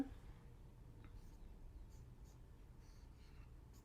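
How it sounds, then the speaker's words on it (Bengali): Hand-writing Japanese hiragana on paper: soft, continuous scratchy pen strokes with faint brief lifts, quiet and close, with no talking. "এখন হোটা লিখবো কিভাবে"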